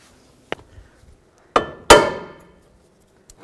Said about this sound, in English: take a punch, if you have a long punch or a long piece of metal, and you just tap down on the lower control arm